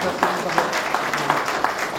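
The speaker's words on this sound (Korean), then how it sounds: "큰 박수 드리겠습니다" An audience at a People Power Party presidential campaign event claps in a steady, evenly spaced rhythm, each beat distinct, with voices talking over it.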